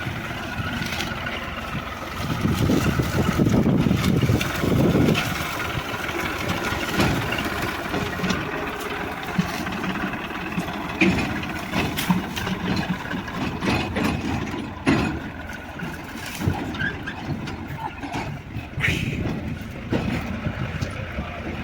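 Threshing machine (huller) running outdoors, a steady mechanical rattle and rumble of engine and gears that carries on throughout, loudest near the start.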